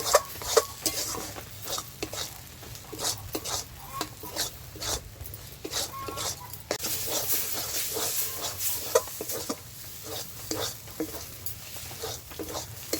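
A spoon stirs mashed taro leaves in a wok: repeated scraping and rasping strokes in an uneven rhythm, close and steady for the whole stretch, with a light sizzle underneath.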